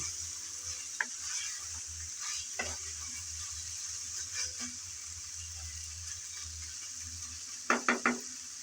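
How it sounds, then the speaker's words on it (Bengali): Spicy prawns stirred in a pan as they sauté, a soft steady sizzle broken by a few clinks and scrapes of a spoon against the pan, with a quick cluster of sharper clatters near the end. "নেড়ে চেড়ে ভালোভাবে একটু কষিয়ে নিলাম"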